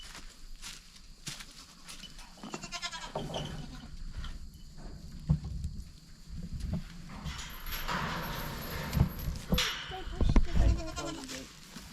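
Goats on a farm near a hay barn bleat intermittently amid footsteps and shuffling, with people talking throughout and louder thumps and rustles toward the end.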